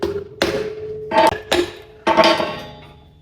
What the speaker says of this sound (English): Little brass hammer here.